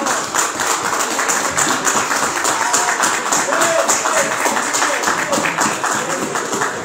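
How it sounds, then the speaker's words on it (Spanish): Applause from an audience paying tribute at a short-film event, a dense, steady wash of many hands clapping at once, loud and sustained throughout with no pauses. "quiero pedir un gran aplauso"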